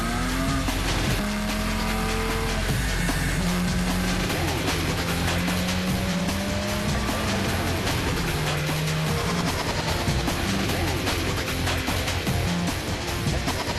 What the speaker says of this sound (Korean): 다음엔 시속 120km까지 가속하며 또 다른 주행 시험에 나섭니다.